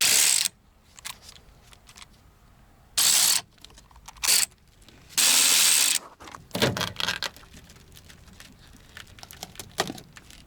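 A hand ratchet clicks in short bursts while backing out 10 mm bolts holding a Toyota Century door speaker, with crisp close-up pawl ratcheting and light tool handling between runs.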